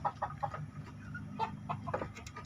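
Free-range chickens clucking in a loose, irregular series of short calls at moderate distance, several birds overlapping against a steady low background rumble.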